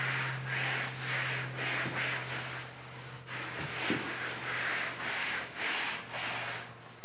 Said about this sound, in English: Let me just wipe it down.